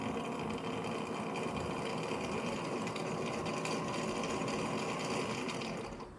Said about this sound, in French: Donc ça, c'est le lavage des serpillères.